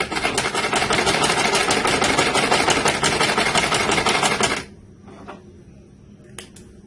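A sewing machine stitches fabric while elastic is being attached, giving a rapid, steady mechanical whir of needle strokes for several seconds before it stops abruptly, leaving near quiet.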